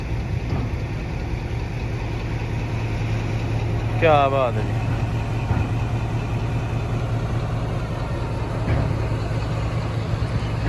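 A railway locomotive idles while shunting on the line toward Jammu, a steady low engine drone running throughout, with a voice talking briefly over it.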